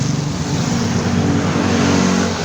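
Continuous loud road traffic, engines droning and rumbling steadily as vehicles pass close by.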